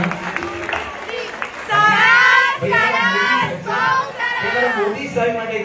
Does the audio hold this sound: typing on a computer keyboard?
no